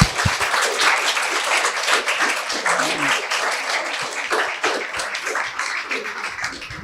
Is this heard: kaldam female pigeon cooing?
no